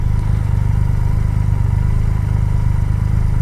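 Triumph Rocket 3 motorcycle engine on a demo ride, a steady low throbbing rumble held at constant volume throughout, with no voices.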